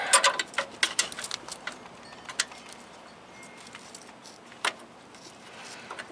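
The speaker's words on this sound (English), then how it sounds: "Gotta get the wrench all the way on the nut." A wrench working loose a tight brake line fitting on a 2004 Toyota Tacoma during a clutch slave cylinder job gives sharp metallic clicks and clinks, close up, clustered early and then more sparse, with no talk.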